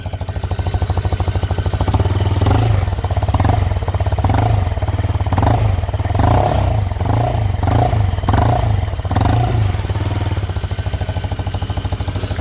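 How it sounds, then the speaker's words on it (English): A Royal Alloy scooter exhaust idling with a loud, throbbing, uneven burble and rattly pulses, close up and continuous. "It does sound a very, very nice exhaust"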